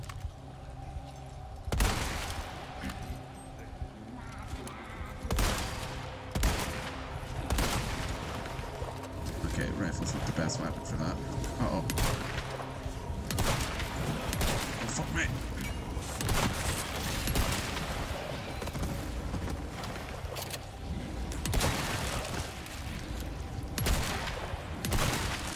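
Shotgun blasts ring out repeatedly in the Resident Evil 4 Remake video game, loud sharp reports at irregular intervals over a busy rumbling background of combat noise.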